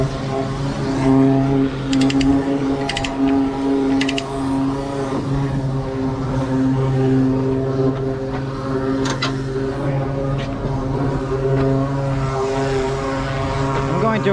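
A hydraulic system hums steadily as it raises a heavy trailer for hauling a 75,500 lb drill rig. A sustained mechanical drone runs throughout, with a few faint clanks and ticks over it.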